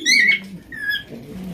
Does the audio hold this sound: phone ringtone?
no